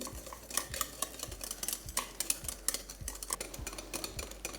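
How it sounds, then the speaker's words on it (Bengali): Cake batter with white oil just added, being stirred in a bowl; a continuous scraping swish with light clinks of the utensil against the bowl, close and fairly quiet. "তারপর সেটাকে একবার ভালো করে মিশিয়ে নিন"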